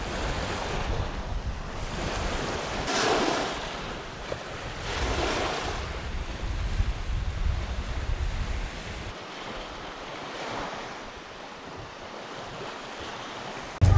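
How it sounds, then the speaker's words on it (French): Strong gusty wind buffets the microphone over a steady roar of surf on a beach at Bantayan, Philippines, loud and continuous, easing slightly toward the end; no voices. "de ce côté, il y a le vent déjà qui souffle bien plus fort"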